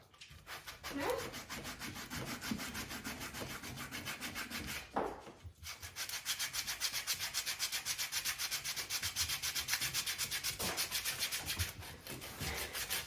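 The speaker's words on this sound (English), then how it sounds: "The sanding block keeps it" Steady rhythmic rasping of a sanding block on paintwork, fast back-and-forth strokes, close and continuous with a brief pause midway.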